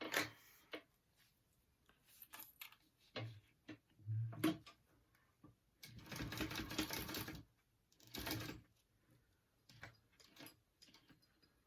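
A sewing machine top stitching a zipper on a vinyl sling backpack, quiet clicks and short stitching bursts with one longer steady run of rapid strokes and gaps between.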